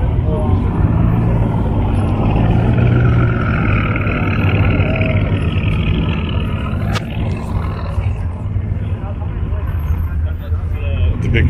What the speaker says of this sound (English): Big Shelby truck.